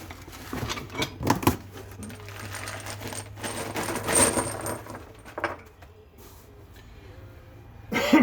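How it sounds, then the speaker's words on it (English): Greaseable trailer shackle bolts for a spring hanger kit clink and clatter as they are handled in a pile, giving sharp metallic knocks in bursts near and clear. "We've got a mountain of greaseable shackle bolts."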